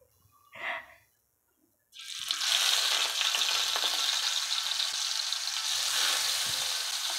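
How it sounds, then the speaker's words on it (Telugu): Fish frying in oil on a stovetop pan: after a short soft sound and a pause, a loud, close sizzle bursts in and holds steady, crackling and spitting throughout. "మనం పొయ్యి మీద పెనం పెట్టుకొని చేపలు వేసుకున్నాం."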